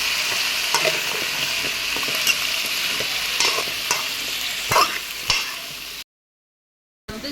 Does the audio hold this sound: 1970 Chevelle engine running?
no